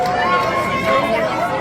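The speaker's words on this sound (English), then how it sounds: "A rain of boos coming down on J7 and Chase and the whole crew" A dense, sustained wall of booing from a large wrestling arena crowd aimed at J7, Chase and their crew, loud and steady without a break.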